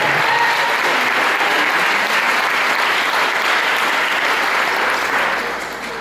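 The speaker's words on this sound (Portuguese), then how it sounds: "Vamos aplaudir a Jesus na sua" A church congregation claps during a Portuguese-language sermon, producing a dense, steady wash of applause that holds evenly and then tapers off in the final second.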